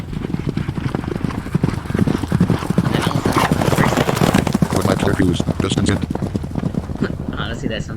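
Steady clip-clop of horse hooves in Manamon at a brisk, even rhythm, mixed with busy game sounds and a brief whinny-like cry near the end.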